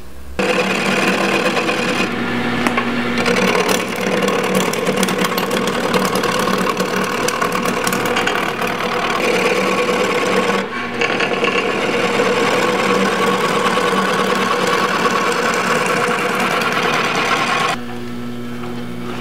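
A skew chisel slicing wood on a lathe, shaping a corner on the pommel: a continuous loud whirring, rasping cut with steady texture, briefly easing off twice before resuming.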